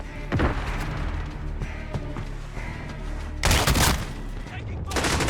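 Gunfire bursts ring out in the video game Modern Warfare, with loud close volleys and a heavier barrage near the end, along with voices of in-game callouts.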